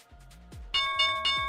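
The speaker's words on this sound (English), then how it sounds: "there's the opening bell here" A stock market opening bell, heard during a live futures trading stream, rings as a bright, repeated electronic chime in a short sequence of loud tones with no talk over it.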